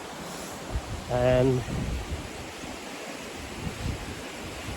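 Hebden Water rushing under a small footbridge in woodland near Hebden Bridge, a steady broadband wash of moving water throughout, with a voice briefly speaking over it.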